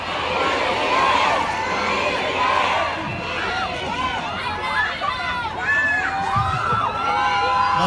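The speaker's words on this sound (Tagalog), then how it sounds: "Ang naririnig po nating tinig ng Pinoy, ng sigaw ng ating mga kababayan" A crowd at an outdoor political rally on Lucap Wharf in Alaminos City, Pangasinan, cheers and shouts continuously, with overlapping excited voices, whoops and chatter forming a loud, dense roar.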